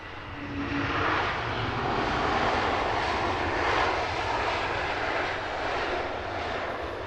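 A fixed-wing airliner at Heathrow Airport at sunset roars steadily with a broad, loud engine rumble that swells slightly and holds for several seconds, with no talk over it.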